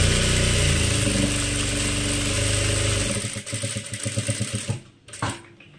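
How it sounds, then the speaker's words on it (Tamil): An electric sewing machine stitches a sleeve onto the main garment piece, running fast and loud at first, then slowing into distinct rhythmic stitch pulses before stopping. "ஸோ இதை வந்து ஸ்டிச் பண்ணி எடுத்துக்கலாம்."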